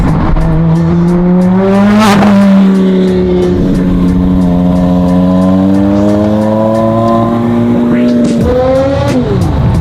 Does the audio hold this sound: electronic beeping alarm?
no